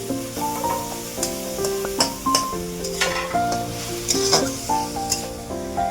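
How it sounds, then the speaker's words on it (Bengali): Red amaranth leaves fry in a pan, a close sizzle broken by repeated stirring scrapes and taps, with a tonal melody playing underneath and no talking. "লাল শাক ভাজি।"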